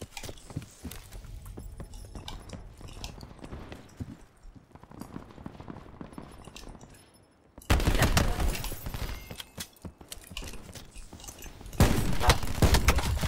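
Gunfire from a weapon in the Black Ops 4 video game, a Gun Game match: scattered shots and fast bursts that grow louder and denser in the second half, with footstep-like clatter between them.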